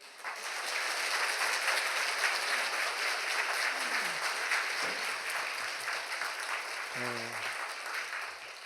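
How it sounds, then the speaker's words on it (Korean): A church congregation applauds steadily to welcome the pastor at a Sunday service, a broad sustained wash of many hands clapping with a faint tonal sound briefly cutting through near the end. "목사님 나오실 때 우리와 같은 박수로 환영해 주시기 부탁을 드립니다"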